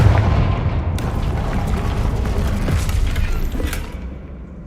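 The Confringo spell in a video game sets off a deep, booming blast followed by a rumbling, crackling tail with a few debris-like clatters, loud and up close, fading out near the end.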